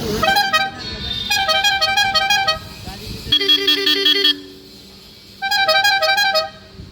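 Loud electronic car horns demonstrated at a vehicle accessories and body shop in Deesa, sounding as sustained multi-tone melodic blasts in three separate bursts with short pauses between them and a brief quiet gap in the middle.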